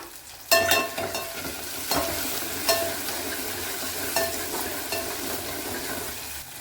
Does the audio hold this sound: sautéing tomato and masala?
yes